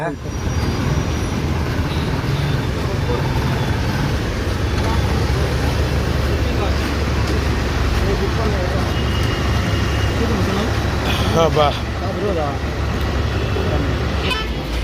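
Inside a moving Tamil Nadu bus on the Guntur to Ongole road, a constant engine and road rumble runs throughout, broken by repeated horn toots, with faint voices in the background.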